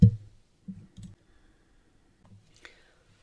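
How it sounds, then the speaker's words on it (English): A Misti stamping tool presses a Halloween skeleton stamp, giving a few soft close thumps and clicks spaced about half a second apart, then one sharper click near the end in an otherwise quiet room. "I had to make a couple of passes with my ink and my Misti to make sure I got a nice crisp image"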